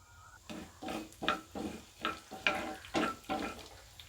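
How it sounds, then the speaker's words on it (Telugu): Tempering seeds crackle and pop in hot oil in a pan, a series of sharp sizzling bursts in uneven rhythm, close and fairly soft. "స్టవ్ ఆన్ చేసుకుని ఒక ప్యాన్ పెట్టుకొని వన్ టేబుల్ స్పూన్ ఆయిల్ వేసుకోవాలి ఆయిల్ హీట్ అయ్యాక పోపు దింట్లు వేసుకోవాలి"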